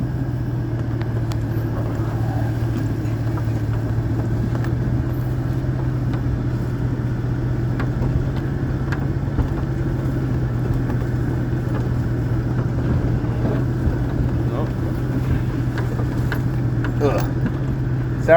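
A car drives along a bumpy road past milkweeds, a steady low engine rumble and road roar running throughout with occasional faint rattles and soft background voices.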